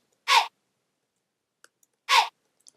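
A short vocal chant sample pitched up high, sounding twice as brief clipped syllables about two seconds apart, with small faint clicks in the gap between them.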